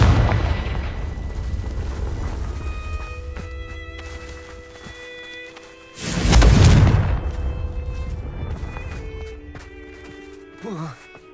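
A Confringo spell blast in the Hogwarts Legacy video game erupts loud and full around the middle, a broad booming burst over a steady game soundscape of tones and faint impacts, with a smaller pop near the end.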